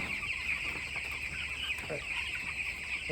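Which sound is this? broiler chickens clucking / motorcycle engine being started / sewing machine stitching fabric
broiler chickens clucking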